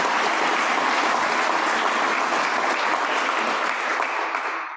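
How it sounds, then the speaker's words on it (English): Dense, sustained applause from a large audience at an annual general meeting fills the room evenly for nearly five seconds before tapering slightly at the end, with no talk over it. "a round of applause for Lori and her team and all the donors and all the friends"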